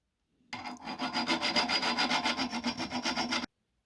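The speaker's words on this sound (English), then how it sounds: "just get your file out, spend about 5 minutes on a peg" A metal file works a pit bike foot peg in quick, even back-and-forth strokes, about twenty rasping scrapes in a rapid rhythm, close and clear, then stopping abruptly.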